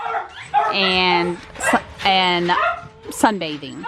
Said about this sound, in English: Sorry about the dogs behind me.